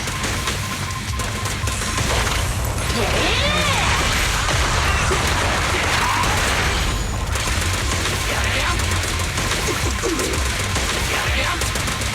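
Dense shooting and combat in the video game Zenless Zone Zero: continuous rapid blasts, crashes and impacts fill the whole stretch loudly, with synthetic effects layered over the noise.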